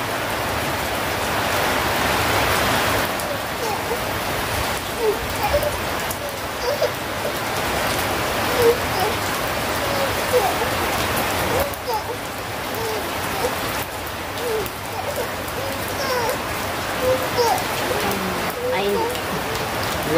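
The first monsoon shower falls steadily, a continuous wash of raindrops on surfaces with small splashy ticks scattered through it, while people talk intermittently nearby over the rain.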